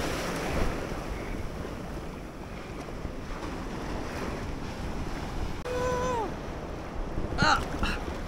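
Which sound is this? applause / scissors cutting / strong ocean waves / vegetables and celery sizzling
strong ocean waves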